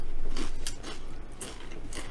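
Close, loud crunchy chewing of food, with repeated bites and mastication sounds in an irregular rhythm and no talk over them.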